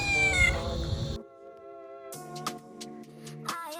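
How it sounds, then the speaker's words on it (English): A stray cat in the Philippines meows close by, a few drawn-out, insistent cries in a row. "There's a lot of stray cats, and it just kept meowing."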